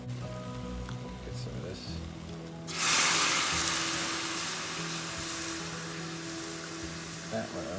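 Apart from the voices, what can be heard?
pan sizzling while deglazing roasted lamb juices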